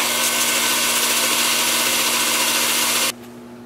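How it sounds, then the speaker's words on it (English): A power sander works on a rectangular natural-edge turned wooden bowl at a workbench, giving a loud, steady whir that runs unbroken for about three seconds, then cuts off abruptly, leaving a quieter hum. "Then I'll take it over here to the workbench and sand this area up."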